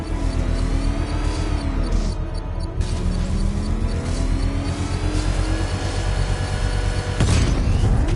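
A controlled bomb explosion in the video game Batman Arkham Knight gives a continuous loud rumbling roar with a sharper burst near the end, set in dense game soundscape.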